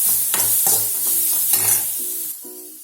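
A coconut mixture is sautéed in a pan for a kuzhi paniyaram sweet, giving a soft, close sizzle with repeated scraping strokes of stirring that end in a quieter hiss.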